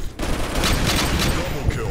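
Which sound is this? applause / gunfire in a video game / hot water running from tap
gunfire in a video game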